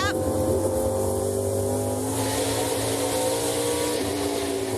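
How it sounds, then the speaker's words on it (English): ARCA Menards Series stock cars launch at Toledo Speedway, a loud dense roar of engines revving and pulling away together, with a commentator talking over them. "Daniel Dye with a great launch on the outside line with Taylor Gray right behind"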